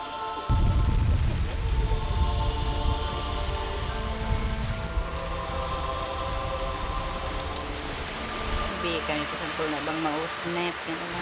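Heavy rain pours down in a sudden shower over the sea at a coastal village, a loud, continuous broadband hiss of drops lasting throughout with waves churning beneath.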